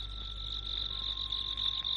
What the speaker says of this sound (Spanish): Los grillos se ensordecían.